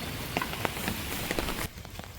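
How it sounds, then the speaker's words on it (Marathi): Heavy monsoon rain in rural Konkan, a dense, steady hiss of downpour with scattered sharper drop impacts, close and fairly loud for a couple of seconds before easing slightly at the end, with no speech. "पाऊस खूप आहे."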